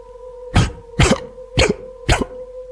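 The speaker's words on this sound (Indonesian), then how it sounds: "terdengar suara orang terbatuk-batuk" Four loud, harsh coughs from a person come one after another at even intervals over a low steady hum, a dramatized effect in a spooky night scene near a hut.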